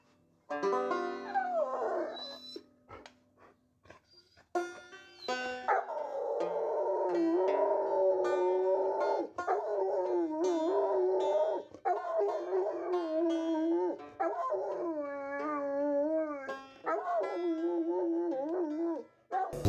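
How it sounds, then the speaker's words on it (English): A family dog howls along with musical accompaniment in a duo recording, long wavering howls rising and falling over sustained instrumental tones throughout, loud and close. "I've even done a little bit of recording as a duo with Oscar, the family dog."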